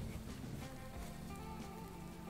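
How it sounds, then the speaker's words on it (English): Steady rain falls in the survival game The Infected, a constant wash of drops with a low rumble beneath it, even and unbroken throughout with no one talking. "And now it's raining."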